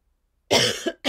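A close, sharp cough bursts out of silence, then a quick second cough follows a moment later.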